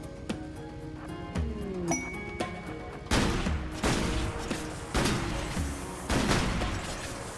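Gunfire in RimWorld with the Grimworld 40k mod: sparse sharp cracks and metallic clinks build into heavier, louder volleys and booming bursts, repeating every second or so.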